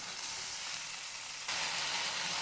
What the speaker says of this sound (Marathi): टोमॅटो टाकायचे